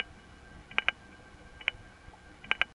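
Telephone sub-exchange machine relays switching as the last four digits are dialed to a sub-exchange, a few faint metallic clicks in pairs and singles over a steady hiss and a thin line tone.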